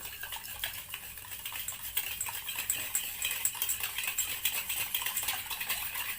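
Sugar powder being stirred into milk in a bowl for an eggless cake gives soft, continuous scraping and clinking of a spoon, quiet and close, with no voices.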